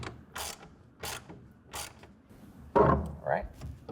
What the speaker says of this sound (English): tighten that down with a 1/2 inch wrench or ratchet